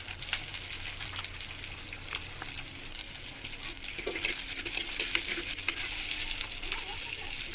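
Small shallots sautéing in oil with chana dal and urad dal, a soft continuous sizzle with scattered crackles and the clink of a spoon stirring the pan, no talk.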